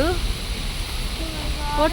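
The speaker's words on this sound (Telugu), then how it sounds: "ఇక్కడ వాటర్ ఫాల్స్" A steady, full rush of falling water roars throughout, with voices speaking briefly at the beginning and end.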